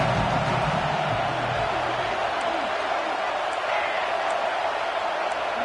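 A stadium crowd in an American football video game roars steadily on third down, a dense, continuous wash of cheering noise at high volume with no breaks.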